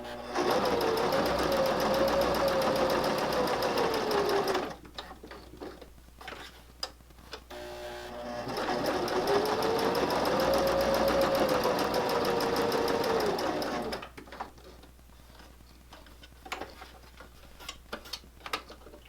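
A sewing machine stitches a fabric corner bookmark in two steady runs of several seconds each, separated by pauses filled with light clicks and handling noises.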